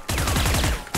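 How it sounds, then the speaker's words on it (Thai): Phantom rifle with the Champions 2024 skin firing in Valorant: a rapid, steady automatic burst of loud, close shots lasting about a second, then a short pause before firing resumes. "อันนี้เสียงปืน"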